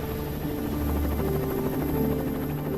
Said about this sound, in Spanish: Pasan más de 3 horas antes de que lleguen los helicópteros de rescate.